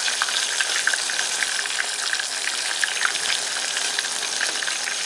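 Food deep frying in hot oil until crispy and golden, a steady dense sizzling hiss with fine crackling pops, close and continuous with no voices.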